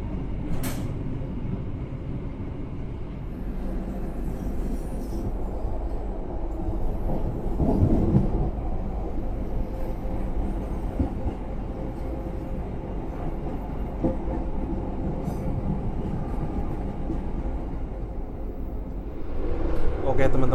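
Argo Semeru executive-class train rolling along the southern line between Surabaya and Jakarta, a steady low rumble of wheels on rails heard from inside the carriage, continuous throughout and swelling slightly near the end.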